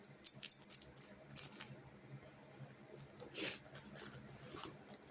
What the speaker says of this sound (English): I almost forgot my keys.